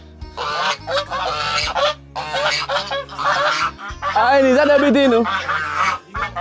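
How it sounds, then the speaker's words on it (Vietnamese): Muscovy ducks and ducks call with loud, close honking and quacking bursts in rapid clusters, while people talk nearby between and over the calls. "Ngan vịt."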